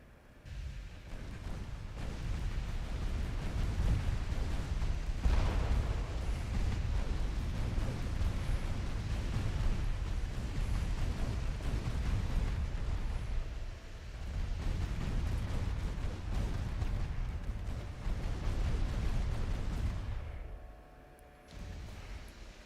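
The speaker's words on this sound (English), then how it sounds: "Let's fire secondaries at you. And primaries at you." Battleship main and secondary guns fire in the naval strategy game Ultimate Admiral Dreadnoughts as a loud, sustained rumbling barrage of deep booms that briefly drops away near the end before resuming.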